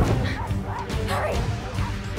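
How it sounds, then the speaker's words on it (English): Several dogs bark in a chase scene from a TV episode, quick yips and barks over a busy background of music and noise, with a voice talking faintly underneath. "Them dogs are chasing you."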